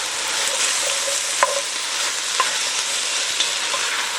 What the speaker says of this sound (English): While our peppers and onions are sauteing